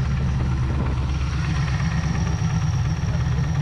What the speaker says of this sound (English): Supercharger started working.